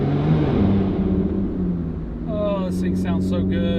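Lotus Evora GT engine rumbling steadily under load while driving, heard from inside the car with a faint tonal whine rising over it partway through.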